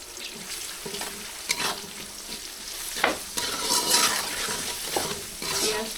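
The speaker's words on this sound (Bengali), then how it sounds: "পেঁয়াজ ভাজার ভিতর লবণটা দিলে পেঁয়াজটা তাড়াতাড়ি ভাজা হয়ে যায়।" Onions sizzle in hot oil with salt added while a spoon scrapes and clatters against the pan. The sizzling stays steady, with irregular stirring strokes up close and no speech.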